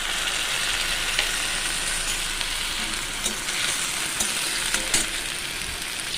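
A paste of onion, tomato, ginger, garlic, cumin and ground coriander fries in a pan for a prawn and jackfruit-seed chorchori, sizzling steadily up close with intermittent stirring scrapes and pops.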